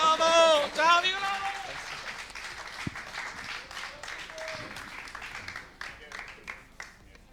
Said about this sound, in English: Big round of applause over here.